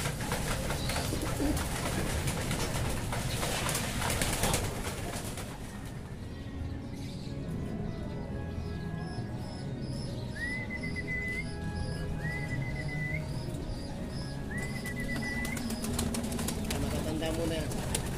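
Pigeons (homing-type birds) coo in soft repeated rolling calls mid-way, with wing flapping and other bird sounds, beneath steady outdoor background noise and people talking nearby.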